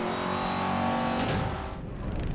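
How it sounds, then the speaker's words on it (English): A loud car engine in the racing video game Need for Speed: Most Wanted roars and revs close up, its pitch climbing and then shifting as it accelerates. "it's rare to hear licensed cars sound this realistic in an arcade racer"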